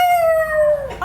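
A rooster gives one short, clear crowing call that slides downward and ends in a rough cluck, close and alone.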